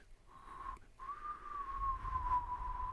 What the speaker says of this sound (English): this is the height of my whistle.